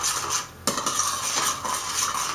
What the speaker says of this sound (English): And we're going to mix this together.